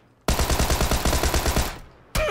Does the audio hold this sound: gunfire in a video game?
yes